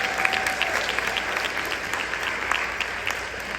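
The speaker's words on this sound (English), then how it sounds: "Give her another round of applause." Audience applause at a city State of the City address in East Orange, dense, loud clapping from a large crowd that holds steady throughout without speech.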